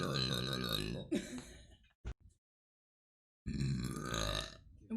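A woman burps loudly and at length, with a long drawn-out belch, a brief second burst, then silence before another long burp.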